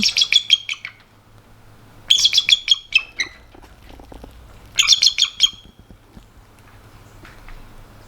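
Nearby birds give three bursts of harsh, squawking chirps a couple of seconds apart, with quiet background between calls.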